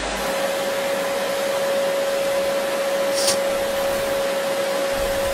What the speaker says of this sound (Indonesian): padahal bunyi hair dryer doang